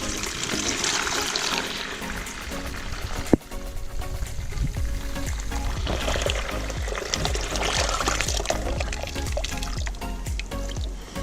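Dirty rinse water from a jet-washed rug pours out in a steady, splashing stream, continuous and fairly loud for the full stretch with a brief sharp knock near the start.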